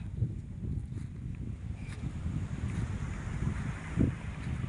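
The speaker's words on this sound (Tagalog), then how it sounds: "Malalaki ang alon, ayoko." A small boat pushes through big sea waves, with steady low rumbling water and wind buffeting the microphone throughout, and a louder thump near the end.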